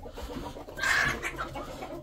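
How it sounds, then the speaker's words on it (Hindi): A hen clucks after jumping onto a phone, giving a short, moderately loud burst of clucking over a low background rustle. "इस मुर्गी ने हमारे पर जंप लगाई है इसलिए इतना मोबाइल हिल गया हमारा"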